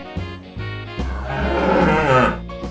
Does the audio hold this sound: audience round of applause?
no